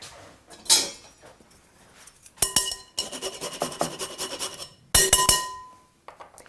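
Fresh lemon zest being grated for flavour while preparing a strawberry napoleon filling, heard as several close, raspy scraping bursts separated by pauses, with a few light knocks and clinks in between.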